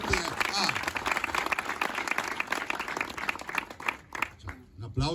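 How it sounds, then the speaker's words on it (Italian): An audience at an Italian political campaign event claps and applauds the team, a dense, fairly close patter of hands lasting several seconds and fading out, with someone talking over it. "Fate l'applauso a sta squadra ragazzi"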